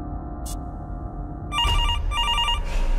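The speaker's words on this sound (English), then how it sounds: "the phone rings again, really loud." A telephone bell rings loudly in two close bursts of rapid trilling after a quiet stretch with a faint click.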